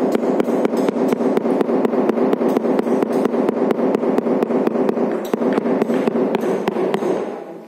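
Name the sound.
rubber mallet tapping granite tile into place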